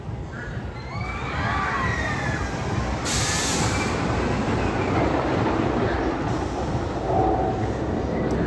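El Toro, a roller coaster at Six Flags Great Adventure on opening day, with its train running in a steady continuous rumble and roar heard from nearby amid faint crowd noise.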